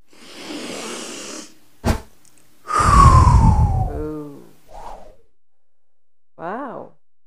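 Sniffing by a character in the puzzle game Mitoza: a few short nasal sniffs and whooshy breaths, interrupted by a brief gasp-like burst and squeaky cartoonish vocal sounds, heard up close and alone.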